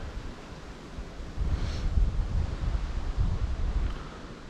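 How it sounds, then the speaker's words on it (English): Wind gusting outdoors in Ceredigion, a rough, low rumbling buffet that swells partway through and stays steady, with no one speaking. "Still windy."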